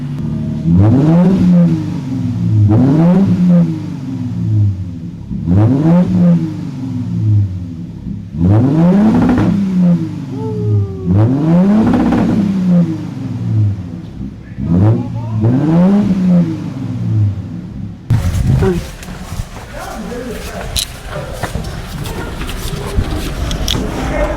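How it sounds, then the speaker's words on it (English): A powerful turbocharged V6 car engine revs hard about six times in a row, each rev rising and falling in pitch with turbo spool, before giving way to a rough, noisy rumble. "Hear them turbos?"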